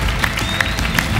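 An audience claps together in a brief, dense burst of applause that carries a few sharper individual claps.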